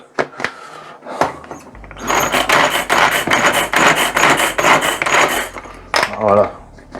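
A hand-cranked manual meat grinder mincing meat for cognac pâté, making steady rapid clattering and grinding metal noises for several seconds, with a few scattered knocks before and after.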